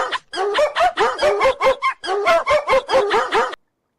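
A dog barks loudly and close up in a quick, steady run of sharp barks for about three and a half seconds, then falls silent.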